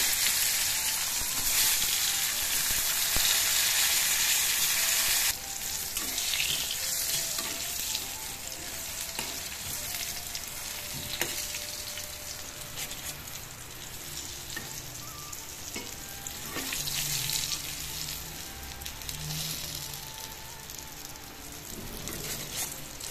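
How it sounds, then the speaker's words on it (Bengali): Pointed gourd pieces fry in hot oil with a steady, close sizzle and crackle throughout. The noise is loudest and brightest for the first few seconds, then eases back a little with occasional pops. No one speaks. "আর এদিকে যে পটলগুলো তেল গরম করে ভেজে নিতেছি।"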